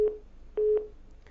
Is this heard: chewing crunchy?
no